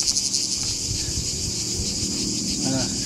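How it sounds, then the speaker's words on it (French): A cicada sings from very close range, a loud, continuous high-pitched buzz that runs unbroken throughout, with some rustling and handling noise underneath. "là, je suis à 15 cm de la cigale"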